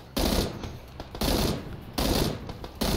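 Automatic weapon fire in PUBG, loud bursts of rapid shots arriving in about four close volleys separated by brief lulls, with no talk over them.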